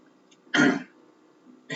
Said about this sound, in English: I got to watch that cough